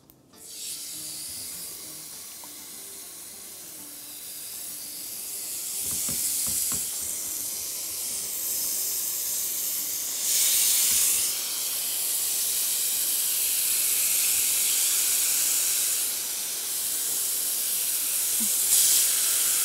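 Marinated steak laid into hot oil in a pan, giving a steady, loud hiss and sizzle that swells in bursts and continues throughout with no talking.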